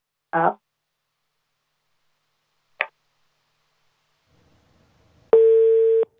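A telephone busy tone after a phone line disconnects: a steady buzzing tone begins abruptly near the end after a few brief clicks and near silence, loud and close.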